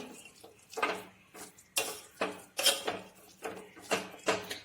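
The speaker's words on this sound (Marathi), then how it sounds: "आणि हे डाळीमध्ये पूड मिक्स करून घेते" Spice powder gets stirred into cooked dal for puran poli, a series of rhythmic scraping and mixing strokes, close and fairly distinct, repeating at a steady pace with no voices.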